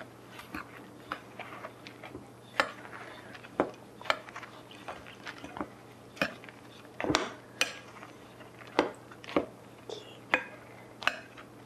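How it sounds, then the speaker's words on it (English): A utensil stirs dry ingredients for almond cookies in a bowl, making close, repeated irregular clinks and scrapes against the sides at a steady working pace, with no one talking. "Mix the dry ingredients."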